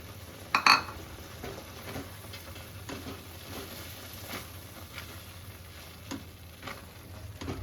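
Grated coconut drops into a hot pan for nolen gur pathishapta with a sharp clatter, then a soft sizzle goes on as a spoon scrapes and stirs it in scattered taps. The sound is close, and no one speaks.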